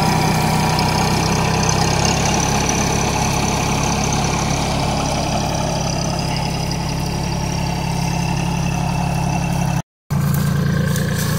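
A Farmtrac Atom tractor hauling a trolley loaded with 50 quintals of sugarcane runs loud and close, its engine revving in a heavy, steady drone with a low throb that holds throughout, briefly cut out near the end.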